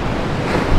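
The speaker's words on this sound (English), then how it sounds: "It's crashing against the rocks, against the wall, and you get the sea, even the mist of the sea" Rough Mediterranean surf crashes against the rocks and seawall of the Beirut Corniche, a loud, continuous roar of breaking water mixed with wind.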